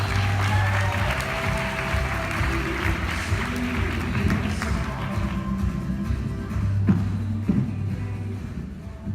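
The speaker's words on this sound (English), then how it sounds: "Give her a round of applause" An audience at a leadership conference applauds as a coach walks to the stage, with moderate, continuous clapping in a large room, mixed with background voices and a few sharper claps toward the end.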